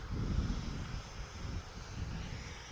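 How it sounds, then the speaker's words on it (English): A 17-year-old Ryanair Boeing 737-800 takes off from runway 23 left at Manchester Airport, giving a steady, fairly distant jet roar with some wind buffeting and no talking. "It's a 17-year-old 737-800."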